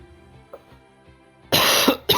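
After a quiet moment, one harsh, close cough bursts out, followed by a brief second catch of the throat.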